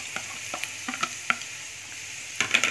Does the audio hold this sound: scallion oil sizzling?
yes